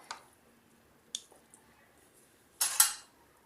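Cooked Maharashtrian dal rice pressed with a spoon into a shape, a few soft faint scrapes and taps of the spoon against a dish, ending in a louder clattering knock.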